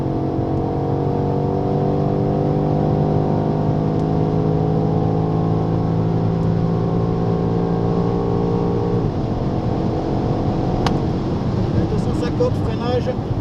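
A BMW X6M's engine pulls hard down a straight at the Dijon circuit, its droning tone climbing steadily in pitch, then dropping sharply as it shifts, heard loud and close from inside the car, with talk over it.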